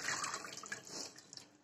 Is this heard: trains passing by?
no